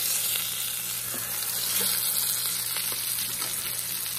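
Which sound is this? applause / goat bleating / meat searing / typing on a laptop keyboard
meat searing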